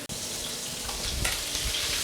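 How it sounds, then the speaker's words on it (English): Thin pork chops searing in a pan, a dense continuous sizzle with crackling spits and a brief louder burst midway, close and steady. "I'm just gonna pan sear these pork chops for 2 to 3 minutes per side."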